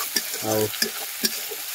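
Masala of onion and ginger-garlic paste frying in a pan for a chicken curry, a steady sizzle broken by scraping stirs and a few sharp clicks of the spoon against the pan.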